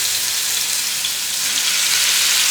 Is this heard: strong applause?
no